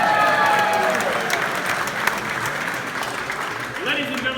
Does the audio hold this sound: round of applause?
yes